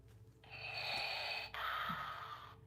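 A voice imitates Darth Vader's heavy mechanical breathing. Two long, hissing breaths sound close to the microphone with no other speech.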